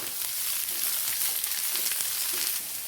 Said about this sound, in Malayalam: പച്ചച്ചുവ മാറുന്നത് വരെ ഒന്ന് വഴറ്റിയെടുക്കാം